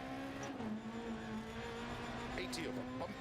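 Peugeot 208 R2 rally car engine in a racing video game, held at steady high revs with a constant droning tone and brief rises near the end, heard under a co-driver's pace-note voice.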